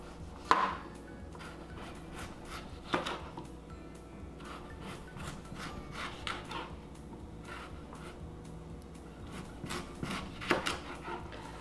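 Skin-on Yukon Gold potatoes being cut into sticks with a knife, a few sharp, close chopping knocks on a board spaced seconds apart amid quieter scraping and handling noises.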